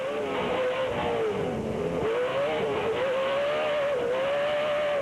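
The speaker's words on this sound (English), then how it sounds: "Listen to that Toyota sing, man. It's full song." A Toyota Pro 4 off-road race truck engine screams at high revs at Firebird Raceway, Chandler, Arizona, its pitch rising and dipping steadily as it runs flat out, loud and continuous with no talk.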